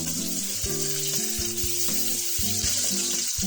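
Brinjal (eggplant) fries in plenty of oil for ennai kathirikai kuzhambu, a constant bright hiss of sizzling under quiet background music, steady and even throughout.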